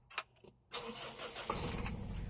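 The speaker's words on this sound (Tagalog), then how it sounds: "Start muna natin yung makina." A vehicle engine cranks and catches, a couple of faint clicks and a brief crank, then the motor fires and settles into a steady, close idle.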